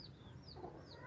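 Chickens and hens on a farm cluck softly, with a few short, faint calls over low background noise in a brief moment.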